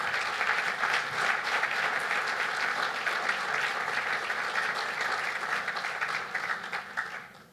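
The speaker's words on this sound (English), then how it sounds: "Let's give them a round of applause before they do any work." Guests at a cancer center ribbon cutting ceremony break into a loud, sustained round of applause that holds steady, then tapers off near the end.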